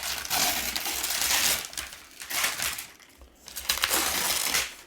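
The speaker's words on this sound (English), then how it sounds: "We'll open up the brown paper bag." A brown paper bag holding a comic book order is opened, giving loud crinkling and crunching paper rustles in several bursts with short pauses between them.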